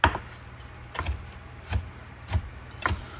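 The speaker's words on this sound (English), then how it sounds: "I'm going to actually chop up these sausages." A knife chops sausages on a cutting board in a home kitchen, five distinct sharp thunks spaced about half a second to a second apart, close and clear over quiet room tone.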